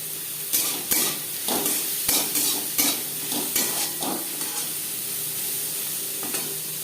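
Onions with turmeric powder and salt frying in a pan, a continuous sizzle broken by regular scraping strokes of a spatula against the pan, close and fairly loud with no voices.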